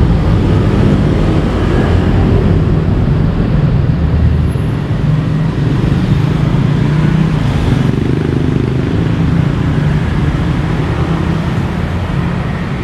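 Dense traffic roars along a busy Bangkok road with no traffic light, a continuous close wash of car, motorbike and bus engines with no pauses.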